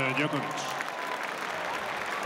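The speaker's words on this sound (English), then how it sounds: "Clapping more in hope than expectation." A tennis crowd at Roland-Garros claps steadily through a Federer–Djokovic men's semi-final, a dense, even wash of applause with a commentator's voice over it.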